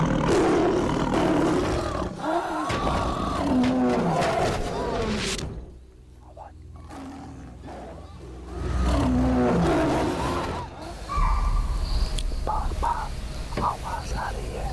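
Tiger growls in a jungle, repeated low rumbling roars recurring through the clip with a quieter gap midway, fairly close and loud amid ambient forest noise.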